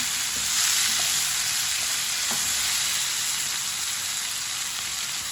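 Chopped tomato and green chilies fry in a pan for masoor dal with eggplant, giving a steady, close hiss of sizzling oil that runs unbroken throughout, with a couple of faint utensil taps.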